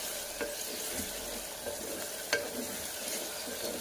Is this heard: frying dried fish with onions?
yes